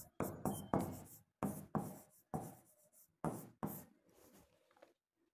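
Chalk or marker strokes on a board during a calendar reasoning lesson, several short scratchy bursts in an irregular rhythm with brief pauses, close and fairly quiet, with no talking.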